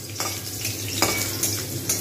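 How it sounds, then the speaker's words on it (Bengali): Potatoes being fried and stirred in a pan for traditional Bengali shukto, with a steady sizzle and repeated scraping strokes of a utensil against the pan, close and fairly loud, no talk. "বেশ কিছুক্ষণ সময় নিয়ে আলুগুলোকে ভাজবো"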